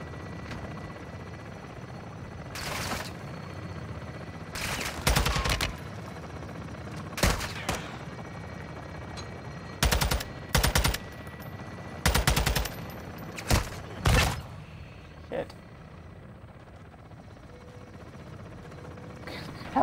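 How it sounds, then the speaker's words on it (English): Helicopter rotor chopping in the Modern Warfare 2 campaign, a steady low thrum under repeated loud bursts of machine-gun fire that come in clusters across the stretch. "Helicopter choppy sound, yes."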